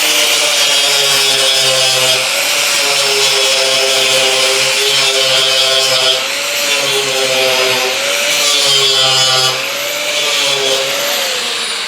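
An abrasive disc grinder strips paint from car body sheet metal with a loud, continuous whining drone that wavers slightly in pitch as the disc presses into the panel, close up, with no voices.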